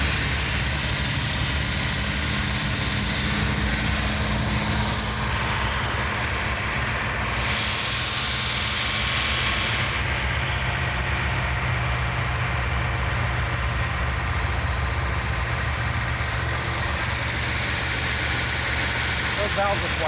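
A 1970 Dodge Challenger with a 440 Six Pack engine and four-speed idles loudly and steadily up close, a continuous rumble under a broad hiss that shifts slightly partway through.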